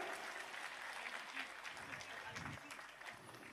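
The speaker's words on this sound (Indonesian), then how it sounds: "Tepuk tangan untuk Sayyid Zulfikar." Steady applause from an indoor audience honoring Sayyid Zulfikar at a religious gathering at a pesantren, continuous and fairly distant, fading slightly toward the end.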